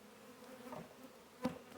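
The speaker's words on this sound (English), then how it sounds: "This is some bees that I picked up in downtown New Bern" A queenless honey bee swarm collected in downtown New Bern hums faintly and steadily, a low drone with a couple of brief louder buzzes as bees pass close.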